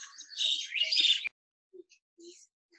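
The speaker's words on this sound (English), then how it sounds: "bahut awaaz ho rahi, birds ka bahut" Birds chirp and tweet in bright bursts, a dense stretch early on, then a few sparse short calls that fade into quiet.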